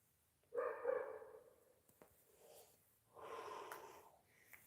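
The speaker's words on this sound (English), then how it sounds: "You barking dog, stop your barking. Barks a lot." A dog gives a couple of short, rough barks with snorting breaths, faint and somewhat distant, with pauses between.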